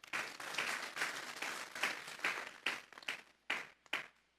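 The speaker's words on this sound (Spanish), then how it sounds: "Vamos a darle un fuerte aplauso pues al Señor" Scattered clapping from a church congregation during a sermon, sounding as a run of distinct, fairly close hand claps that thin out into separate bursts toward the end.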